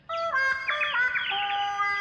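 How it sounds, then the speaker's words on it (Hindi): Cartoon birds chirp and warble in a bright, tuneful sequence of overlapping tweets, clear and close, alone without any talking. "क्या ये पक्षी तुम्हें पता बताएंगे?"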